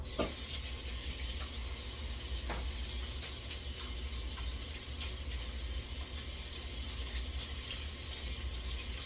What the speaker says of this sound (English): Gotta wash hands.